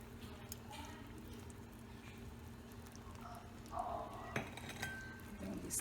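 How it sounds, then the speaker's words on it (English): A spoon stirs Nigerian egusi soup with ground uziza peppercorn in a cooking pot, making a few light scraping clinks against the pot late in the clip over a low background hum. "Then we stir."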